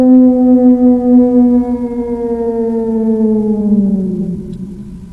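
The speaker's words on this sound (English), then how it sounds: "Sound number 4 is a howling wolf." A single long, loud, sustained howl slowly glides downward in pitch and trails off, resembling a wolf howling alone.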